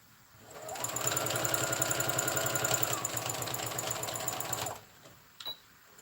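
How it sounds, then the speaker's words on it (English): A sewing machine stitches the middle part of a pot holder in one continuous, rapid mechanical whir lasting about four seconds, then stops, followed by a brief click. "I still gotta stitch that middle part first."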